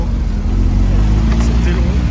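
A GT3 sports car at a car meet makes a loud, close engine rumble that holds steady and heavy throughout, with voices mixed in underneath.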